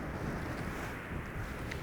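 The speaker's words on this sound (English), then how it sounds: "Oh, it's windy now." Steady wind roars and buffets across the microphone on a snowy mountain path, a dense continuous rush with no talking.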